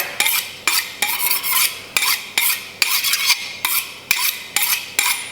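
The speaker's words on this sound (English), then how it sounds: "So I'm just gonna slice this piece off so that I can cube it easier" Sharp boning knife slicing through a deboned lamb leg roast on a board, a steady series of about a dozen crisp, rhythmic cuts, close and clear with no talk.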